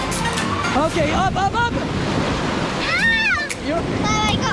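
Ocean surf breaking on an Outer Banks beach, a steady broadband wash running the whole time beneath excited voices talking and calling out nearby.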